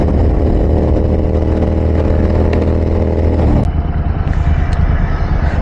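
A motorcycle engine runs loud and close on a highway ride at speed, a steady droning roar that shifts to a rougher, lower rumble partway through.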